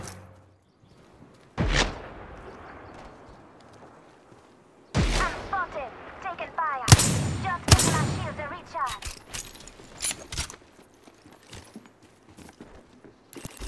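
Gunfire in the Apex Legends video game: sharp bursts of shots with mechanical clatter, a lone crack followed by heavier volleys and trailing rattles, loud and close, with game voice callouts around them.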